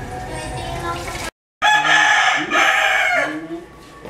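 A rooster crows loudly and close by, two drawn-out calls split by a brief silent gap.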